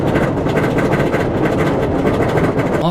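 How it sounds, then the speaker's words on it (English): Wildcat's Revenge roller coaster lift hill: a steady, loud, dense mechanical rumble of the train climbing, continuous and even throughout with no distinct clicks and no talking. "Wildcat's Revenge Lift Hill sounds like this"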